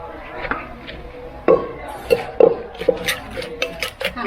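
Knife chopping ingredients for Thai papaya salad (som tam) on a board, a few sharp irregular knocks mixed with clinks of dishes and utensils, with someone talking over them.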